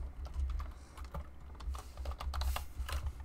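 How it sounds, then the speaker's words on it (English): Quiet, rapid typing on a computer keyboard while entering a Minecraft server name, with irregular clusters of light key clicks continuing for a few seconds and no speech. "Type in the name."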